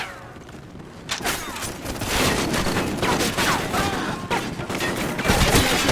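Dense, sustained gunfire from Call of Duty Ghosts, with overlapping rifle bursts and heavy booms building after the first second into a loud, continuous firefight.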